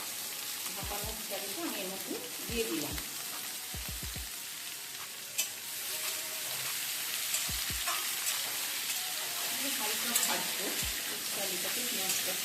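Drained potatoes fry in a pan, a constant bright crackling sizzle that runs throughout, with occasional low knocks of a utensil against the pan and no one talking.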